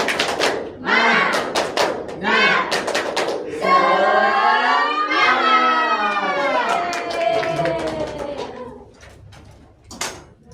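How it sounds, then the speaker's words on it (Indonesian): A standing primary-school class in a microteaching lesson does a rhythmic spirit clap, quick bursts of claps and chanted voices in a counted pattern, loud and close, with group chanting and a teacher's voice between. "Tepuk semangat."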